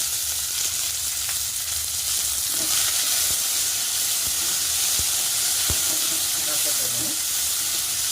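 Tomato, cinnamon and cloves sizzle in hot oil for a stuffed brinjal curry: a steady, close crackle that runs throughout, with a few sharper pops rising out of it.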